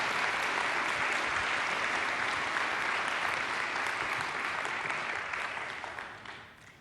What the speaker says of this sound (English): Please give a huge round of applause to Dr. Steve Foster.